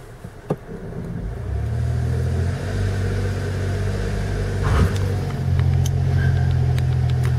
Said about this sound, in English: My tires are skidding.